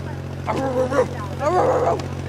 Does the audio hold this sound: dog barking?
yes